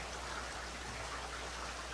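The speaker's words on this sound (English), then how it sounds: "Might as well get up now before the rain gets any worse." Steady rain falling in a visual-novel game, a soft continuous hiss with faint patter, even and unbroken at low level with no talk.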